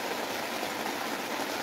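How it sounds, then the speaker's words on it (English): Steady rain falls outdoors as a continuous, even hiss with no breaks, filling the space without any voices. "listen to the rain"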